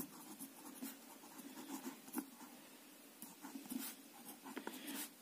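Pen scratching steadily across paper while a physics problem about transformer coil turns is worked out, a close, soft, continuous scribble with brief pauses and taps, no talking.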